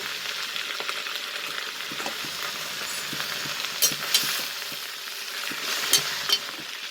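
Steady sizzling of black nightshade and ponnanganni greens frying in a hot pan, a continuous crackling hiss with a few sharper pops and spatters.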